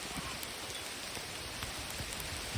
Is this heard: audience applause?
no